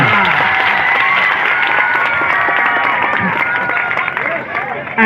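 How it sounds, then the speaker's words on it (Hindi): Crowd applause and cheering from an audience during a speech on education and alcohol, a loud continuous mass of clapping with crowd noise mixed in, holding steady for several seconds. "ऐसी तालियां बजाते रहिए"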